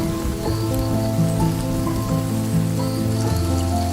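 Rain drips and patters onto the floor of a Brazil nut forest in the jungle, collecting in discarded nut shells, with close, irregular droplet taps over a continuous soft wash of falling rain.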